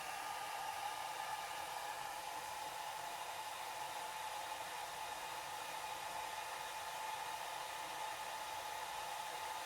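A hair dryer runs steadily and alone, blowing to dry an alcohol ink painting of a coneflower, with a constant even whir at moderate distance and no change in pitch.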